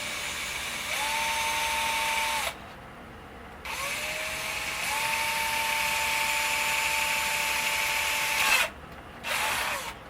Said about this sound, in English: The fact that our shavings are coming out pretty much all white tells us that we're drilling in the fiberglass and not in the black plastic.